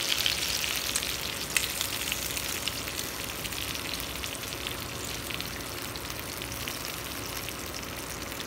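Meat frying in a hot pan while making Filipino chicken adobo, a steady, even sizzle with fine crackling that holds at a constant level throughout, with no voices.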